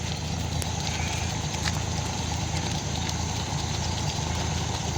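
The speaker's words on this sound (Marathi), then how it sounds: "बस थांबले." A bus engine idles with a steady mid-pitched rumble and light rattling as the bus comes to a stop, continuous throughout.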